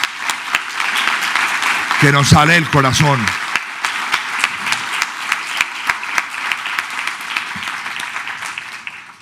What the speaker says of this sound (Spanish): pido un aplauso para la ministra y para Juan Esteban